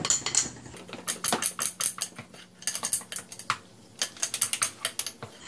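Bibim-myeon cold spicy noodles with sesame oil and three ice cubes are mixed in a bowl, producing rapid irregular clicking, rattling and wet slapping bursts up close, with short pauses between flurries and no talking.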